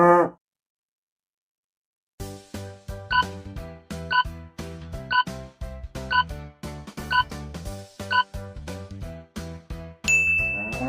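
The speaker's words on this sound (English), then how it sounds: "A cow." A cow moos in a few drawn-out calls after a short silence, set against a rhythmic, chiming backing that repeats beat after beat.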